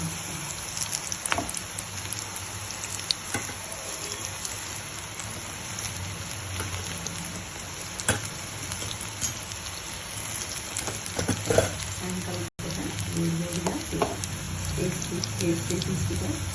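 Egg bajji pakoda fry in hot oil with a steady, close crackling sizzle, scattered pops rising above it, while someone talks over the frying.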